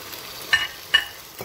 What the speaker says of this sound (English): So I'm going to add the sauce that we made.